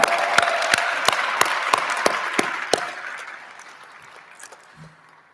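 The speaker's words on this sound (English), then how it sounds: "Another round of applause for a great rendition." Applause at an Air Force exhibit opening ceremony: sparse, sharp claps over a dense wash of a crowd, fading over the last seconds.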